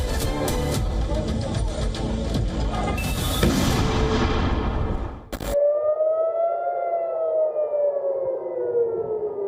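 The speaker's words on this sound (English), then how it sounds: "Sirens screamed, bombs thundered." A loud rumbling, crackling blast fades into the steady rising and falling wail of an air raid siren droning on alone.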